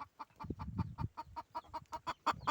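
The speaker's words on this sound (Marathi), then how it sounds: "ही कोंबडी आता अंड द्यायला इथं आली आहे आणि ती ओरडत आहे होकॉक होकॉक करत आहे" A hen that has come to lay an egg clucks loudly and steadily at close range, about a dozen sharp rhythmic clucks in quick succession with low farmyard rustling beneath.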